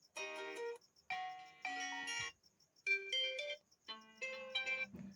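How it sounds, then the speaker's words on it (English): Bright electronic melody of a mobile phone ringtone playing from an Oppo A16k, a series of chime-like phrases with short gaps between them, clear and close with no talking. "You have to choose any ringtone from here which you want to set on your mobile phone"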